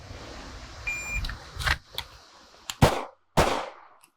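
Pistol shots ring out during an ASP skill check drill on a range, several sharp, loud cracks in quick pairs, with a brief electronic timer beep before the first shot.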